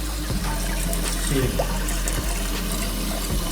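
Water runs steadily into a toilet flush tank whose float lever fails to shut off the flow at the set level, a continuous close rushing and trickling with a few faint knocks and a brief spoken word.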